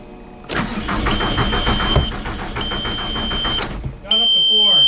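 VW MK4 TDI diesel with a no-start fault, the starter cranking the engine in a steady rhythmic churn for a few seconds before it catches and settles into an idle, with an electronic chime sounding alongside.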